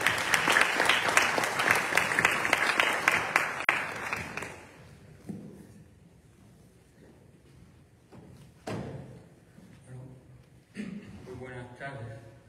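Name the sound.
audience applause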